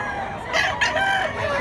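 A stag rooster crows once, fairly close and clear, its drawn-out call rising and wavering over a quiet outdoor background at a market in Mantalungon, Cebu.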